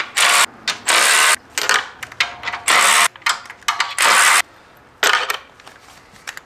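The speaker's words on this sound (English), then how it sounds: "So unbolt the charge air cooler." A hand ratchet clicks in rapid, loud bursts near at hand while unbolting the charge air cooler on a Duramax diesel, several separate runs of close, sharp pawl clicking with short pauses between them.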